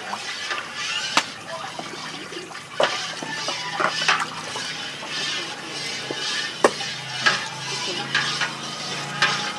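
Sahau mixture cooks in a pot while a spoon stirs it steadily like custard. Intermittent scrapes and knocks against the pot rise over a low bubbling background, with people talking nearby.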